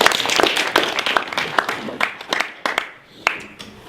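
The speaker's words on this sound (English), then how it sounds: "Round of applause please for John and Alex." An audience applauds two presenters, John and Alex, at a pitch event, with a dense burst of clapping that gradually thins into scattered claps, accompanied by some murmured voices.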